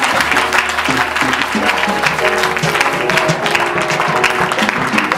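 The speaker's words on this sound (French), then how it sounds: "Est-ce que vous pouvez acclamer pour eux aussi? Kunnen wij klappen?" An audience in a church claps steadily at a youth day service in The Hague, dense, loud applause filling the space throughout without letup.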